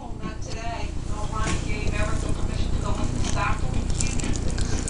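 Baked spaghetti noodles, meat and sauce get stirred together, a wet sloshing and soft scraping that runs continuously up close beneath someone talking.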